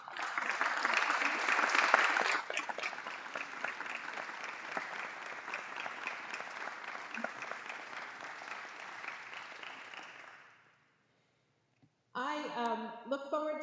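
Audience applause fills a press conference for a newly appointed athletic director, a dense steady clapping that swells early, holds for about ten seconds, then fades out before a voice resumes speaking.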